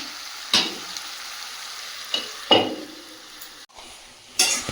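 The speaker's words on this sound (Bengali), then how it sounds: "চিকেনটা ভালো করে ঢাকা দিয়ে দিয়ে কষিয়ে নেব" Chicken sautéing in a covered pan with fried potatoes, giving a steady sizzle broken by a few sharp scraping stirs and clinks, close and alone with no voices.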